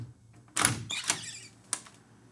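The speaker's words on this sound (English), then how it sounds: "You hear the door or the room beyond, maybe it's exterior, that the room beyond the ambiences all of a sudden come up." A door opens in a sound-effects recording session, with a sudden broadband whoosh and a couple of latch clicks, and the ambience of the room beyond swells in as it opens, fairly close and otherwise quiet.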